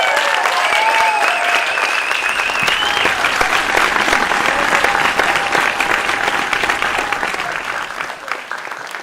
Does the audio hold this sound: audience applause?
yes